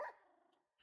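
A single short dog bark sounds faintly at the start, trailing off into a soft murmur before falling quiet.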